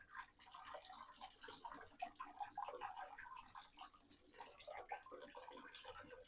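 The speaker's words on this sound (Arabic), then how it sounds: "نغسلها طبعا من النشا ومن الحاجات دي" Cooked pasta for tuna pasta is rinsed with water in a pot to wash off the starch, making a continuous splashing and trickling that swells and fades in uneven surges. Nobody speaks.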